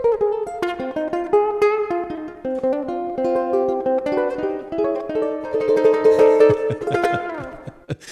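A Fender Rincon tenor ukulele plays a quick, lively melody of bright, short notes, close and clear with no voices.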